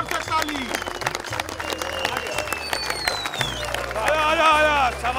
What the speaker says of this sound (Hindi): तो मारी जोर से ताली